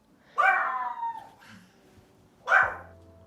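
A pet dog at home gives two sharp barks about two seconds apart, close and fairly loud, each with a short tail, with quiet room tone between them.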